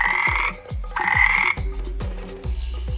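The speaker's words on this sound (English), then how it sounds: "frogs," A frog croaking in loud, close, rhythmic bursts, a repeated buzzing call broken by short pauses, with no voices.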